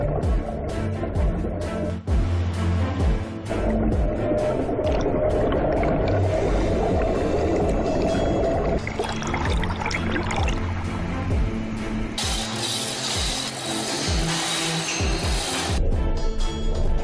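River water churns and surges against rifles clamped on a shaking test rig, a continuous rushing, sloshing wash with knocking rig motion and splashy bursts, with no talk.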